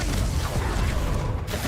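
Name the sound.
Confringo spell cast in Hogwarts Legacy video game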